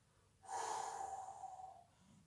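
A single long, deep inhalation during a yoga exercise, close and audible, rising sharply and holding for over a second before tapering off against a quiet background.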